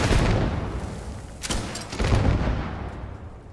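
A grenade explodes in the video game Starfield: deep, rumbling booms and a blast at mid-clip, then a rolling decay of heavy low-end noise.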